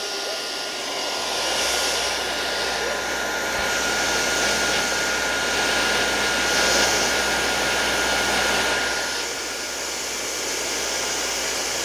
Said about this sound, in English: He loves drying with the hair dryer.